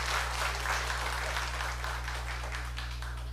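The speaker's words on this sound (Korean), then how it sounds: "결말이 우렁차니까 박수도 우렁찼습니다" A congregation claps in a church during a morning worship service, a steady, fairly dense burst of applause over a constant low hum.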